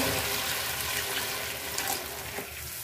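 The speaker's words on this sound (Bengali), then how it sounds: "তো এখন আমি ঝোলের পানি দিয়ে দিব" Rainwater poured into a tomato fish curry, a continuous splashing pour of liquid running steadily for a few seconds, close and fairly loud, with no voices.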